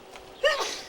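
A single sudden sneeze, brief and fairly close, after a moment of quiet room tone.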